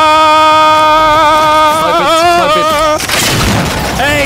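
Sniper rifle no-scope shot in the video game Generation Zero: a single loud, sharp boom with a ringing tail cuts in near the end, after a sustained voiced tone.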